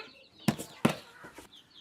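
Breeding country chickens in a coop give two sharp clucks about a third of a second apart, then a few softer clucks fade off, close but fairly quiet.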